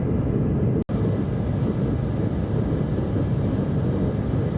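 Airliner cabin noise on a flight from Milan over the Alps, a steady broad low roar of engines and airflow, continuous apart from one tiny cut.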